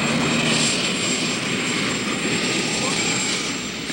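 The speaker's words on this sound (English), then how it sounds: "Two scout helicopters were flying around looking for our enemy" Military helicopters flying during the Vietnam War, a steady loud rotor and engine drone filling the whole clip with a constant rumbling roar and no pauses.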